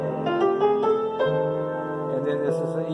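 A piano plays a sharp 5 chord in a jazz context, with a few struck notes leading into sustained chordal tones that ring on clearly with no one talking.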